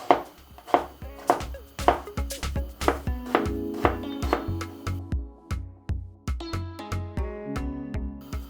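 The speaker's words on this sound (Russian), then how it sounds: "Лучок я нарезаю кубиком." A knife dices an onion on a cutting board in quick, regular strikes, each a sharp close knock, continuing steadily with no talking.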